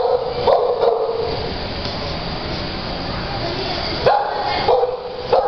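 A dog barks a few times at an animal shelter, with short sharp barks near the start and again toward the end over a steady wash of kennel noise.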